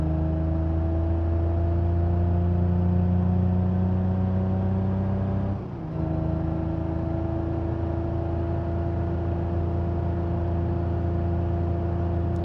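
Moskvich 412 engine in BeamNG droning at a steady, fairly weak tone, with a brief dip as the revs drop and recover midway, otherwise a constant even hum.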